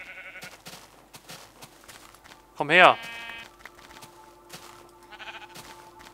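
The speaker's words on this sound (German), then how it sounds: "Und braune Schaf." Sheep in the Minecraft video game, including a brown one, lets out a single loud bleat in the middle, while someone talks in German before and after it.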